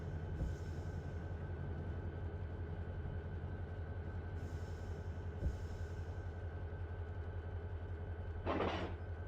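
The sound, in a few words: freight cars moving in the video game Run 8 Train Simulator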